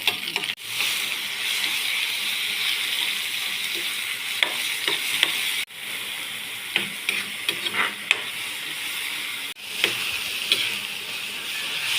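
Garlic and onion frying in cooking oil for sautéed sardines, a steady close sizzle that runs for several seconds with scattered scraping stirs and a few brief breaks, and no voices.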